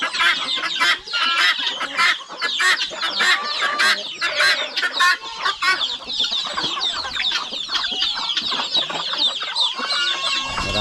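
Many farm chickens cluck and chatter close by in a dense, continuous flurry of overlapping calls, with no talk over them.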